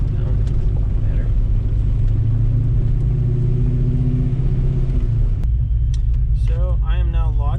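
Loud low engine rumble from a rebuilt Ford Mustang on its first drive, holding steady with a droning tone before easing off, and a voice speaks over the end.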